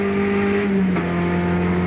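Ford Sierra Cosworth turbocharged 16-valve engine racing in a 1987 touring car championship round at Calder, a steady loud engine drone with a wispy turbo whine and a brief shift in pitch near the middle.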